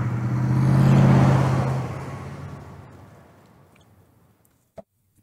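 A pickup truck in the game Tell Me Why revs and skids sideways, with engine and tire noise swelling loud, then fading away, and a sharp click near the end.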